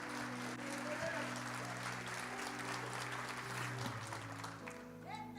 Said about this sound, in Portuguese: levante a mão para o outro e dê um aplauso para Jesus